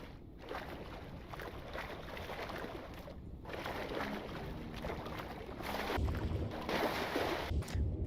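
Swimming through water in Hytale, a steady wash of splashing and ambient water noise that swells louder toward the end, with no talking.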